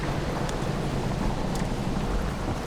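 Rain falls in the video game Dying Light: The Beast, a steady, dense hiss of downpour that holds even and unbroken with no voices over it.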